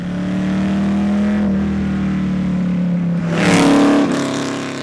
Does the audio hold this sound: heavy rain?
no